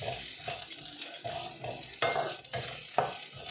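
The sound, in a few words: frying pirandai (veldt grape) in oil until brown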